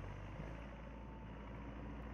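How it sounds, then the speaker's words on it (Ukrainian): A tractor clearing snow at a snowy rural crossroads, with a steady low engine rumble that drones on continuously at moderate distance, no voices over it. "На перехресті трактор чистить сніг."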